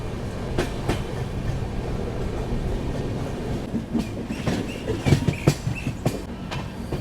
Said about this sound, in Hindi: सामने से आ रही है हावड़ा से चलकर गांधीधाम की ओर जाने वाली गरबा सुपरफास्ट एक्सप्रेस।